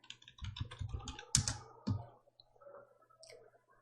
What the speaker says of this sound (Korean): 글꼴을 굴림을 쓰고 엔터 누르십니다